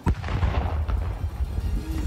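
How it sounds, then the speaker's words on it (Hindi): A landmine laid in a field, destroyed in a controlled blast: a sharp, heavy boom at the start, then a long, low rumbling roar that lingers from a distance. "सामने आई तस्वीरों में दिखा कि एक खेत में बिछाई गई बारूदी सुरंग को पूरी सावधानी के साथ नष्ट किया गया। इस दौरान वहां तेज धमाका हुआ।"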